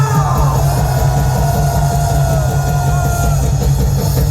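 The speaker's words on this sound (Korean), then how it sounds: "우리 박찬중 전 의원님께도 뜨거운 함성을 보내주시기 바랍니다." A large outdoor rally crowd on Liberation Day in Gwanghwamun cheers loudly for a former lawmaker, a continuous roar of yells and whoops under heavy amplified rumble, loud and unbroken.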